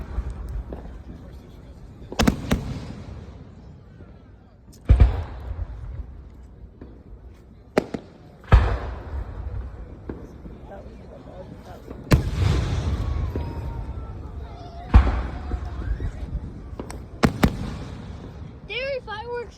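Fireworks burst outdoors in a series of loud, booming explosions spaced a few seconds apart, each followed by crackling decay, with people talking faintly between blasts.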